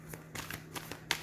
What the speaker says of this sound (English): Let's see if I can get one good shuffle